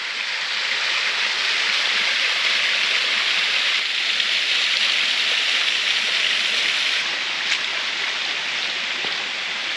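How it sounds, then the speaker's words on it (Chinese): A small waterfall along a steep zigzag stone-step hiking trail near a lake, its steady close rushing splash filling the air without pause and no voices over it. "这里有小瀑布。"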